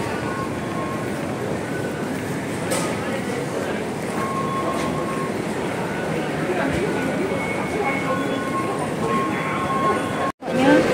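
Continuous rumble of a moving train carriage in Hong Kong, a steady loud rolling drone with faint rattles, ending in a brief dropout.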